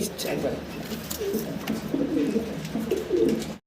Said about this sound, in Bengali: এটা হচ্ছে অ্যান্ডালুজিয়ান কালারের ভিতরে শৌকিং কবুতর